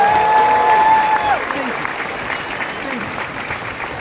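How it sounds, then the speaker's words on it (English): Audience applause at an Army Family Day ceremony at Fort Jackson, a steady wash of clapping across the whole stretch, with a sustained whistle-like tone at the start. "How about a round of applause for you guys?"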